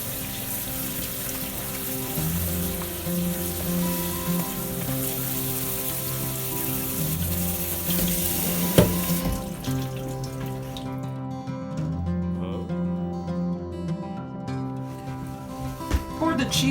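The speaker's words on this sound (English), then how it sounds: "I'm going to rinse this so it doesn't stick together." A pan is rinsed under a kitchen sink tap: running water hisses steadily for several seconds, then cuts off, leaving a quieter kitchen with light clatter and a faint hum.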